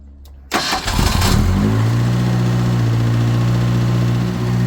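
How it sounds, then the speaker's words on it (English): A Ford Ranger pickup, recently repaired, cranks briefly, fires up loudly and settles into a steady, close idle. "Well, that just fired right up."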